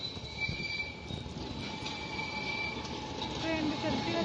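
A train runs past inside a transit setting near the Hagia Sophia and Blue Mosque in Istanbul, a steady rumble with squealing wheels, continuous throughout at moderate distance.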